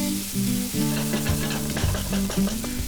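Curry leaves fry in oil with chopped softened tomato in a pan, a loud continuous sizzle and crackle with a few scraping stirs, close up and without talk.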